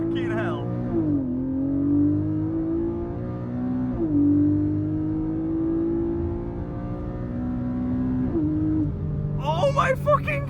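A Porsche Cayman GTS 4.0 with PDK gearbox and 400 hp, launched from Sport Plus mode at full throttle, its engine note climbing loud and close through quick upshifts before a voice shouts at the end.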